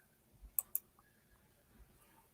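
A computer mouse gives two crisp clicks in quick succession, close and distinct over a quiet background with a faint hum and no talking.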